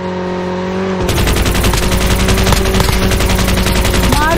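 Rapid automatic gunfire from the Peacekeeper in a Call of Duty Mobile battle royale match, loud and continuous bursts over game engine hum, kicking in after a brief quieter moment.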